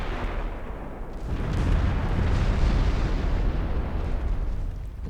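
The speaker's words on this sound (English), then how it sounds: "That's a big hit. That's your A turret gone." Shell striking a warship in the naval game Ultimate Admiral Dreadnoughts, a loud, deep explosion that rolls into a sustained rumbling roar and holds for several seconds without fading, with no talking over it.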